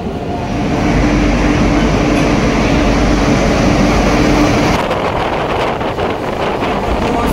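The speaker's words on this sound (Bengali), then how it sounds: "পেছনে আসছে যমুনাবাই এক্সপ্রেস 13151।" Jamunabai Express 13151 pulling into a railway platform, a loud continuous rumble of rolling wagons with wind buffeting the microphone, shifting to a rattling clatter partway through.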